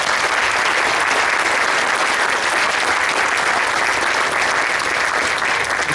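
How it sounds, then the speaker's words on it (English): Sustained audience applause at a Veterans Day event, a dense steady clapping that holds loud and even from start to finish with no pauses. "let's give a big round of applause."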